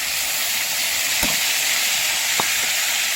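Fresh jiyol fish is stirred in a hot pan, a loud, dense sizzling hiss with a couple of brief utensil scrapes and clinks, close up and without speech.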